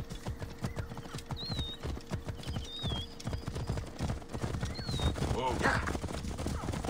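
A racehorse gallops in Assassin's Creed Origins, its clip-clop hoofbeats pounding in a steady rapid rhythm close up, with occasional whinnies and game ambience underneath.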